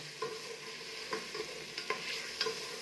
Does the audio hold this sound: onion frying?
yes